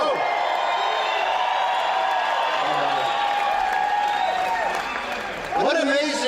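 A large crowd at a Trump rally in Bakersfield cheering, whooping and applauding continuously at high volume, with a brief dip before the roar swells again.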